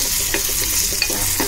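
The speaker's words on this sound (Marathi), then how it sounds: "भेंडा जरा परतून घेऊया 1-2 ते 3 मिनिटं" Okra sizzling as it is sautéed and stirred in a pan for a Malvani-style curry, a steady loud frying hiss broken by several soft scrapes of stirring, close up with no voices.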